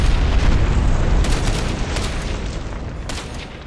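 Air strike explosions in the military shooter Ghost Recon Advanced Warfighter 2: a loud, dense rumbling blast with several sharp crackling bursts layered over a deep low boom that slowly fades, with no voices.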